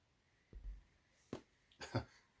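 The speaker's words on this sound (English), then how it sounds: "I think I'm going to sneeze" A man's sneeze at close range: a short low intake near half a second, then a sharp burst and a final louder, breathy explosion, set against a quiet room.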